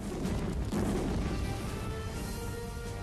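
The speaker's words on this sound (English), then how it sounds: "The first explosion was immediately followed by 2 more blasts." A dense, continuous roar of heavy blasts and rumbling booms, loud and sustained throughout, like a close explosion with lingering crashing debris, depicting the Sultana steamboat explosion.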